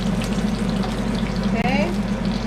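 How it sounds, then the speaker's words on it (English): A tortilla fries in hot oil for enchiladas, a loud close crackle and bubbling sizzle over a steady low hum, with a brief soft chirp partway through. "now we put our tortilla in the oil. We let it harden up a bit"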